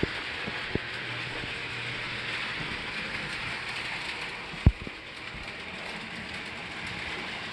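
PLC-controlled model train running on a layout, a faint steady whirring rattle with a few light clicks and one sharp knock midway, no voices.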